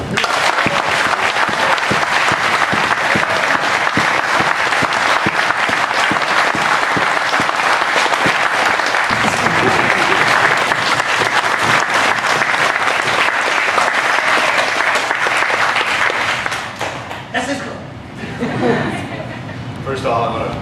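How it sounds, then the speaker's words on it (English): Sustained applause from an audience at a leg lock grappling seminar, loud dense clapping with some chuckling, tapering off toward the end. "I'm gonna have a big round of applause for him."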